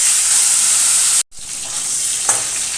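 Shingi catfish pieces sizzle in hot mustard oil in a kadai, a loud steady frying hiss broken by a brief silent cut, then resuming with small spits and pops.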